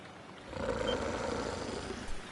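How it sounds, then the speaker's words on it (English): A wolf's roar in the video game Ys X Nordics, a deep, rumbling growl that swells and holds for about two seconds, fairly close and alone with no voices. "It's a wolf!"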